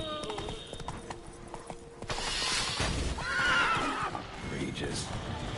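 In the Witcher 3 video game, a horse neighs loudly over clip-clopping hooves, with a whinny rising clearly mid-way amid game ambience and some spoken dialogue.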